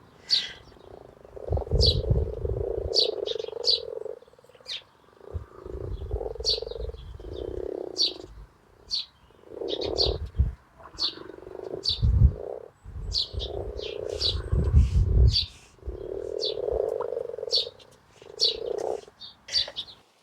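Frogs croak in repeated bursts in a wild Welsh garden in early spring, close and fairly loud, while birds chirp and tweet intermittently above them throughout.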